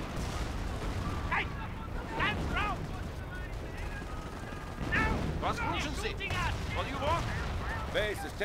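Base taking fire in Company of Heroes, continuous gunfire and shelling rumbling under voices talking throughout.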